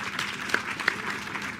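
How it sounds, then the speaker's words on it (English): Audience applause after a speech at a conference on defending life and nature, a fairly quiet, steady patter of clapping with a couple of sharper claps standing out, heard at some distance. "Can we give him a round of applause?"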